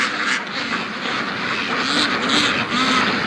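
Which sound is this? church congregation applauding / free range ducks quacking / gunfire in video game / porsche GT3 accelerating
free range ducks quacking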